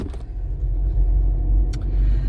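Car driving on the road, a steady low engine and road rumble filling the whole stretch, close and continuous with a brief jingle of keys.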